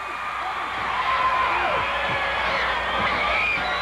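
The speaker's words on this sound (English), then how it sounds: "And listen to this crowd, they love it." A wrestling crowd at a 1980s UWF pro wrestling event cheers and whoops in a steady, dense roar from the arena, with individual shouts rising out of the mass.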